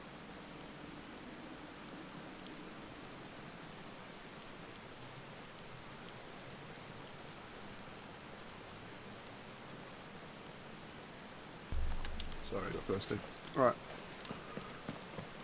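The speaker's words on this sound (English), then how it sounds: "Let's go and see where this rain is coming from." Steady rain hisses evenly through a Final Fantasy XVI game scene, then thumps and clip-clop-like footsteps break in toward the end while a person talks briefly.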